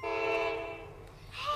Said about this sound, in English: did you hear that? It's a train.